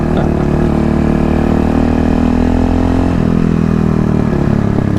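A KTM 625 SMC supermoto single-cylinder motorcycle runs loud and close while riding, its engine drone holding steady and then dipping slightly in pitch partway through, with no talk.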